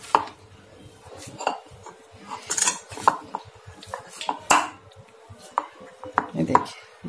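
A knife chops capsicum and paneer for a paneer pizza topping, producing irregular crisp taps and knocks on a board, along with clinks of utensils and dishes, close and fairly quiet with no talking.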